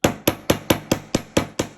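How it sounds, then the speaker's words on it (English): Hammer striking wire flat for a wire-wrapped ring, eight sharp metallic taps in a quick, even rhythm, each with a short ringing decay, close and loud with no voices. "now we're going to hammer the other side"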